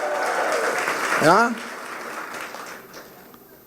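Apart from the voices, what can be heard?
congregation applause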